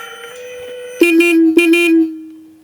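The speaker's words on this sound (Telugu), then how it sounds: "హార్న్ ఒకసారి చెక్ చేద్దాం." Horn of a 2024 Jawa 42 Dual Tone motorcycle sounds in two short, loud honks, with a faint tone beforehand and a fading tail afterward.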